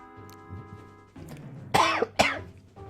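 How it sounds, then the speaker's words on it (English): A person coughs indoors, muffled behind a hand: two sharp, fairly loud bursts close together after a quieter moment of faint throat noise. "I coughed"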